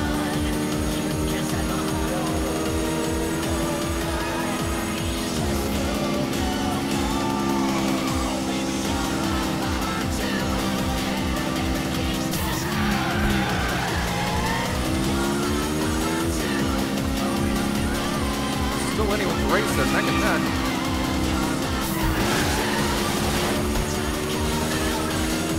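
Race cars in the arcade game Arcade Stage 7 drone continuously through a run of hairpin turns, engine pitch rising and dipping with tire squeals, under excited commentary at a tournament event.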